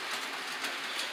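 A train passing on the Huntersville railroad, heard as a steady, close roaring rush of wheels on rails that fills the short moment without any talk.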